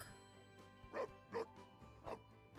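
Dog barking in The Sims 4 video game: a few short, faint yips and barks from a newly made pet dog, heard over soft game music.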